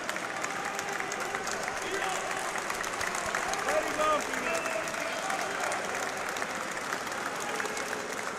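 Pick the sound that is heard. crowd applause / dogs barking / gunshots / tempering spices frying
crowd applause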